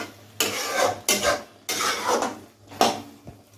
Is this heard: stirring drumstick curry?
yes